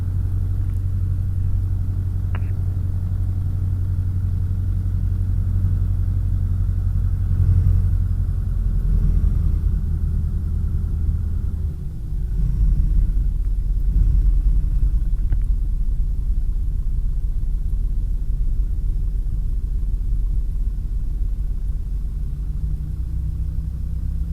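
A light aircraft engine drones low and steady while taxiing, a loud continuous rumble that swells slightly midway and carries no speech over it.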